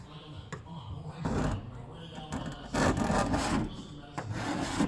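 Paint stripper being scraped off a Foxbody car panel, repeated rasping strokes of a scraper across metal, close and fairly loud, with a voice talking over part of it.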